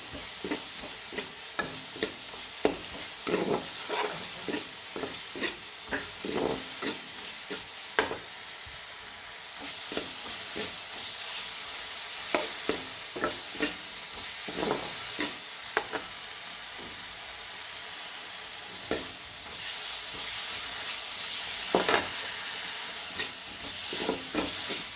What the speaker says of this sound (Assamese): এতিয়া মই ইয়াত ৰেড চিলি অকণমান দি দিছোঁ। সেইখিনি ধুনীয়াকৈ ভাজি ল'ম।